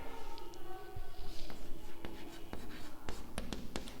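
Chalk or marker writing on a board during a maths lesson, scratchy strokes with sharp taps in irregular rhythm over a noisy room background, close and moderately loud.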